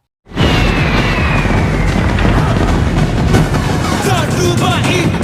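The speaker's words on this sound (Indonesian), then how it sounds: "mereka kaget melihat kembang api yang sangat banyak" A loud, continuous roar of explosions and crackling bursts fills the clip, dense and unbroken, like many fireworks going off at once.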